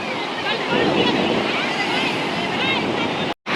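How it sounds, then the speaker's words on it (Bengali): Continuous roaring wash of surf on a beach at Puri, loud and close, with wind buffeting the microphone and a brief cut near the end. "ঢেউটা খুব সুন্দর লাগছে দেখতে"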